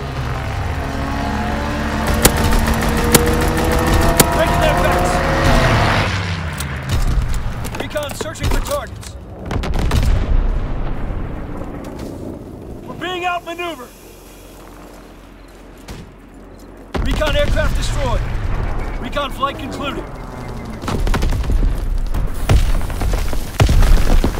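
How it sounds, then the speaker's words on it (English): Aircraft strafing run in the Call of Duty: WWII game, with loud bursts of cannon and machine-gun fire, booming impacts and roaring engines sweeping through, broken by brief quieter gaps, while radio voices talk over the battle. "Strafing run inbound."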